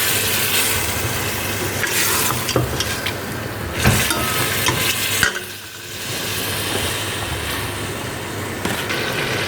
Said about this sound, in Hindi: ये हमने टमाटर डाल के भुना है